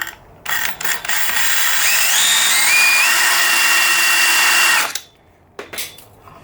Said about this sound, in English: So now I'm going to shift that off the timber and drill it straight through.